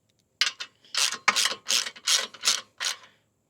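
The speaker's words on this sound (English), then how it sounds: "Only tighten these down far enough to where you flatten out that lock washer." Steel bolt being tightened on an aluminum two-bike hitch-mount e-bike rack, a series of about eight short, close ratchet-wrench clicking bursts in a steady rhythm, with no talk.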